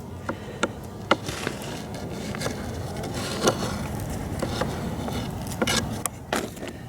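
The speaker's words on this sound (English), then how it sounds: "And there are bees coming out." Honey bees buzzing around an opened beehive being fitted with a heating mat, a steady low hum close by with scattered sharp clicks and knocks of frames and wood over it.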